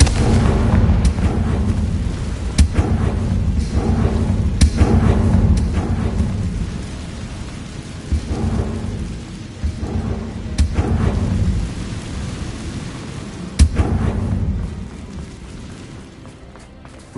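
Bombarda and Confringo spell blasts in the video game Hogwarts Legacy, loud booming explosions rolling over each other with sharp cracks at intervals, under a thick rumbling bed of noise that fades slightly toward the end.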